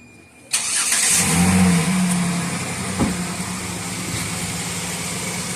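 A 2008 Jeep Liberty's engine catches and runs steadily up close, a continuous mid-pitched drone with a brief bump partway through as it pulls away, no talking.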